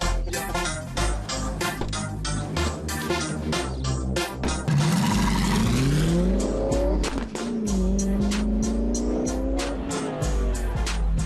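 A tuned car running on 109 racing fuel roars loudly and steadily nearby. Rapid staccato pulses give way to revs that climb and fall in pitch, with a squealing edge.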